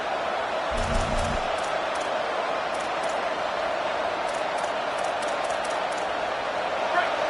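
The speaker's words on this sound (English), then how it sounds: "This crowd bringing the energy and noise early." Steady broad crowd roar fills the stadium throughout, with a brief low thump near the start and faint higher chatter layered over the din.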